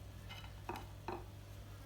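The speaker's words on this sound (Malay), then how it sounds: "Bawang besar kita masuk." Chopped onion goes into a pan for homemade chicken tofu and sizzles quietly, with two short scraping stirs over a steady low background hum.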